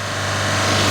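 Suzuki Feroza engine held at 3000 RPM, a steady loud drone with a strong low hum and broadband mechanical roar, continuous and close throughout.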